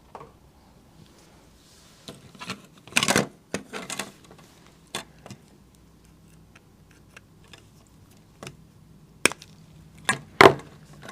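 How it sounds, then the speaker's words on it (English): Small nippers cutting away a plastic piece inside an Amazon motion sound relay housing, producing scattered sharp close-up clicks and snaps with a couple of louder crunching cuts and quiet handling between. "I'm going to take my nippers."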